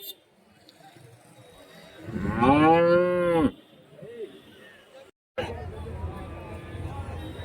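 A single loud, drawn-out cow moo close by at a cattle market, rising and falling, with murmuring voices and market bustle around it before and after.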